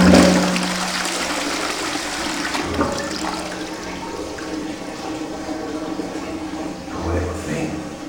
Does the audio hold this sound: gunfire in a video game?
no